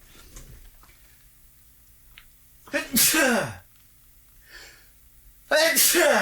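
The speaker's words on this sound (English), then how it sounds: "I got to sneeze, guys." Two loud, sharp sneezes, the first followed by a brief pause and some faint murmuring, the second bursting out near the end.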